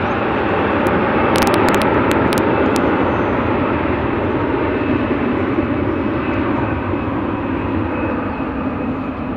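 A British Airways Airbus A380 jet airliner moves at Dallas Fort Worth International Airport, a continuous, even roar of jet engines filling the air, with a few short sharp clicks early on.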